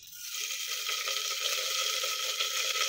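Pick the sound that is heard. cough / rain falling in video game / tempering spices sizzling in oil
tempering spices sizzling in oil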